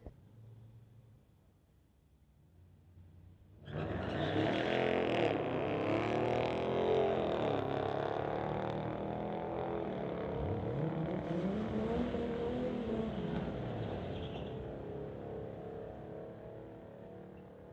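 A 2015 Ram truck launches down a drag strip, its engine roaring loud and close from near silence, then holding a sustained high-revving run with rising and falling tones as it accelerates away through the quarter mile.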